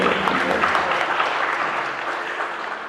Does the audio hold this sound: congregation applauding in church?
yes